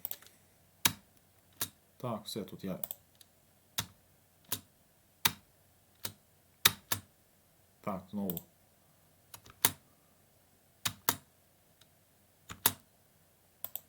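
Computer keyboard space key pressed in sharp, evenly spaced single clicks while someone tests a Scratch game, with someone speaking briefly between presses.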